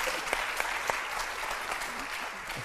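An audience at a stand-up comedy show claps steadily, a dense round of applause at moderate distance, with a few sharper claps standing out.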